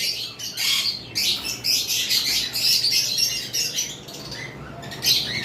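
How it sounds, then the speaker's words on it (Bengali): Normal lovebirds in a group keep up a busy stream of sharp, high chirps and squawks, close and overlapping almost without pause. "এগুলো নর্মাল লাভবার্ড"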